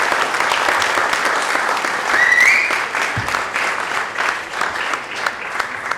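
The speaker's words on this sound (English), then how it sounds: "a big round of applause for yourselves" Applause from an audience at a charity philanthropy awards ceremony for the TCS World 10K in Bengaluru, steady dense clapping that runs loud throughout and swells briefly midway.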